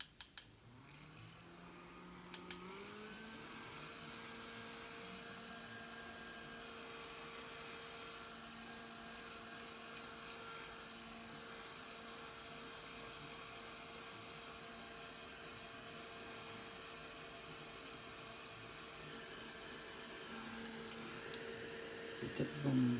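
A small handheld electric fan, the kind used for menopausal hot flashes, dries magnetic eyelash liner. It spins up with a rising whir after a couple of seconds, then holds a steady close hum before a few clicks at the end.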